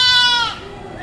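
A goat at a livestock market in Padre Garcia gives one loud, close, quavering bleat that trails off after about half a second into quieter background noise.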